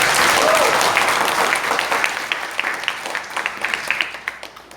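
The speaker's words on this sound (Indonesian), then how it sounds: "tepuk tangan untuk teman-teman luar biasa." After a theatre performance, a room claps for the performers: a loud wash of applause at first that thins into scattered, distinct individual claps as it dies away.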